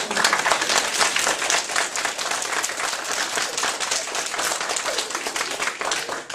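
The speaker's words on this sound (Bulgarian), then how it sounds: "Аплодисменти" Sustained applause from an audience at a March 8 celebration, dense and even throughout, many hands clapping together close by without any speech.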